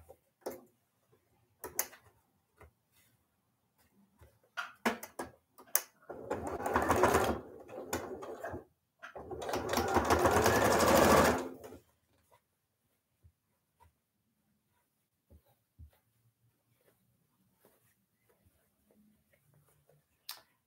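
A sewing machine runs two short bursts down the rows of a pinwheel sawtooth star quilt block, between scattered clicks and handling taps, close by with quiet pauses.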